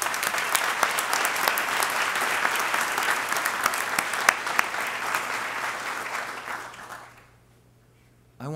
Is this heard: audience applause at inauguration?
yes